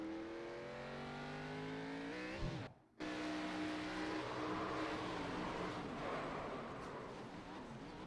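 Race car engine at Talladega Superspeedway in a stock-car racing video game, a steady loud drone with rising harmonic pitch, cutting out briefly near the third second then resuming with other cars roaring around.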